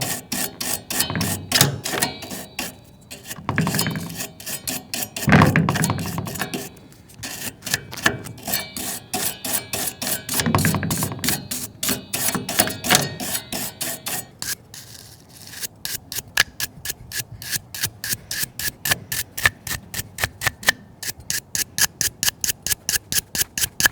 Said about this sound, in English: what I'm going to have to do is kind of take a brush and clean this off to get this as clean as possible